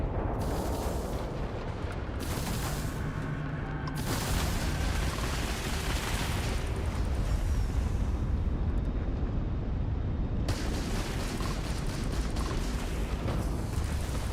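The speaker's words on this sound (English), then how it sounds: "There's our missile." A missile explosion in the game New World: heavy, continuous roaring blasts and rumbling debris fill the whole stretch at a steady high loudness, with brief surges of brighter crackle.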